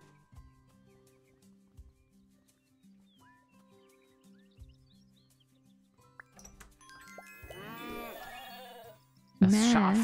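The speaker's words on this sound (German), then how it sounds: "Schaf ist Level 4. Mäh." A sheep bleats in a farm video game, a short wavering baa near the end following soft chimes and game tones, with a voice speaking just before it.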